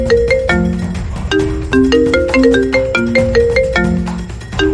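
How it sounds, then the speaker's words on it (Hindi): A melodic electronic ringtone plays loudly and steadily, a repeating tune of bright tones with no voices over it. "फोन की घंटी बजी"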